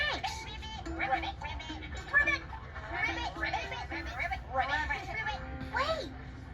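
Animated children's voices imitate frogs, calling out repeated playful "ribbit" croaks one after another, bright and lively with excited speech mixed in.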